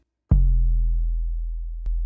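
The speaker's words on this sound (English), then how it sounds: "So that'll be our 808." A deep 808 bass note in E hits with a sharp click and sustains low and booming, then a second hit retriggers near the end.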